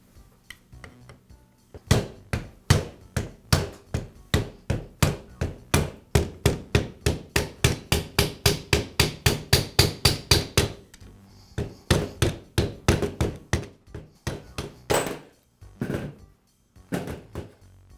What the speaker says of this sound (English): Now I'll remove the metal plate that covers the valves.